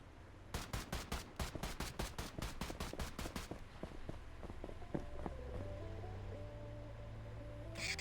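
Rapid bursts of video game gunfire ring out in a quick regular volley for a few seconds, then give way to sparser shots and a low droning game soundscape.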